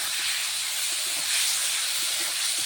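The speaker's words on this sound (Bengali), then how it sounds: "আমি এখন মাছটা ঢেলে দেবো।" Fish frying in hot oil gives a steady, loud hissing sizzle that holds evenly throughout, with no voices.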